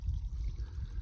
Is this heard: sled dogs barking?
no